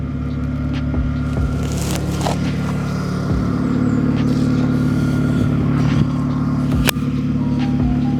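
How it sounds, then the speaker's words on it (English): A car engine cranks and catches on the first turn of the key right after a battery change, then settles into a steady close idle hum, with a couple of brief clicks. "And the car has started, first turn of the key."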